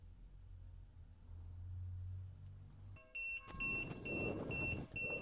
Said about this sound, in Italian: un bip sonoro ci dice che è stato abbinato